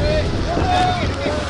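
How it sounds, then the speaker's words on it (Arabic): Strong storm wind at sea, blowing at about 52 knots around a sailboat with its sail raised, roars as a steady loud broadband rush with a thin whistling tone rising and falling over it, without pause. "يقرر أن يسبق الريح التي تهب الآن بقوة 52 عقدة"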